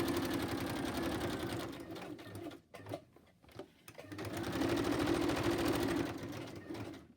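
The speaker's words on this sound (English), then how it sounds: "I might just stitch around them just so they look like they're stitched." A sewing machine stitching around paper bunnies on a scrap-paper trifold runs in a steady, close, rapid needle rhythm, pauses briefly in the middle, then resumes at the same pace.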